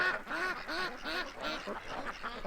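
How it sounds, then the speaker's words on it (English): A large group of ducks quacking outdoors near a yard, repeated nasal quacks overlapping in a steady, moderately loud chorus with no talk. "There's a lot of ducks, eh?"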